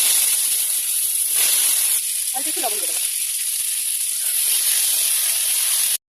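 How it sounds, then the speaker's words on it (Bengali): Pointed gourd and potato sizzle steadily in hot leftover fish-frying oil, a loud continuous hiss with a short voice speaking over it partway through. "এবার এই মাছ ভাজা তেলের মধ্যে আমি পটল আলুটা ভেজে নেবো।"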